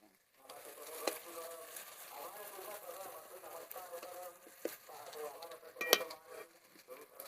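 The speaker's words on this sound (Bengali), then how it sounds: "আর আলু কচু আলু একটু ভেজে নিলে তো ভালো হয়" Potatoes and taro frying in hot oil in a pan, a steady soft sizzle and crackle that holds throughout, with a couple of brief sharp clinks of a utensil against the pan.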